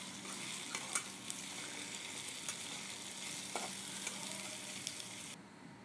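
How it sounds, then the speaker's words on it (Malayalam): Onions with salt sautéing in a pan for a beef gravy, a steady soft sizzle with occasional stirring clicks and scrapes, close and continuous with no talk, cutting out abruptly near the end. "ഇത് വഴയാനാവശ്യമായ ഉപ്പ് കൂടെ ചേർത്ത് കൊടുത്ത് നമുക്കിത് നല്ലതുപോലെ വഴറ്റിയെടുക്കാം."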